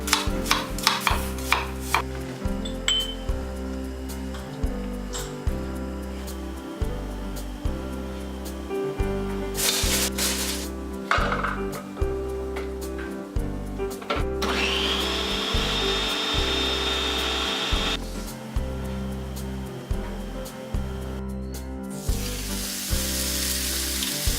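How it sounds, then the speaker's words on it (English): Superior Farms lamb shoulder blade chops, seasoned Greek style, sizzling on a grill under a steady hiss, with occasional brief scrapes and knocks and a repeating low rhythmic pulse running through. "We're having grilled shoulder chops tonight."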